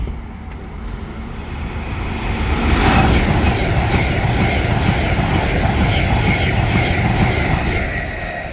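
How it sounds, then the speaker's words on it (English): A train pulls into a station, its broad rumbling roar swelling over a few seconds, holding steady and loud, then easing slightly, with no voices. "Here comes the train."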